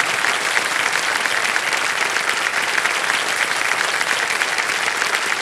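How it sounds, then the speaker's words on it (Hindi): A studio audience on a televised quiz game show claps in loud, dense, sustained applause that continues without a break. "तालियां बजती रहे"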